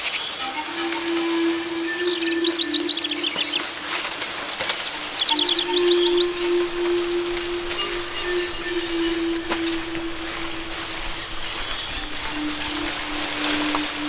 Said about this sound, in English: The trail is alive with the sound of birds, frogs, insects, and the screech of monkeys